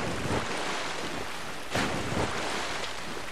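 Water in the video game Dark Souls II washes steadily like broad surf, a dense constant wash with a couple of swelling surges and no voices.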